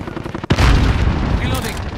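A cruise missile strike in Call of Duty lands as one sudden heavy boom, followed by a loud, rolling rumble that carries on under a voice.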